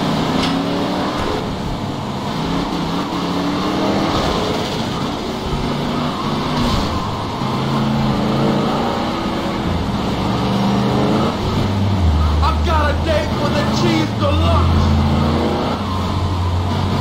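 Car driving in GTA Liberty City Stories on PSP, a steady engine drone with shifting tones and traffic noise running continuously throughout, fairly loud, with no talking.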